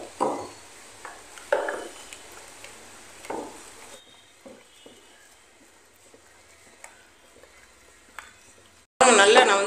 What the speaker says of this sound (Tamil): நல்லா நான் வந்து கிண்டிட்டேங்க